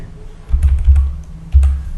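Keys on a computer keyboard clack close by as a search is typed, in two quick clusters of taps with a short pause between them.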